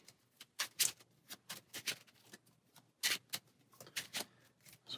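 A deck of Marvel Champions cards is riffle-shuffled close up, giving quick bursts of crisp flutters separated by short pauses, with no talking.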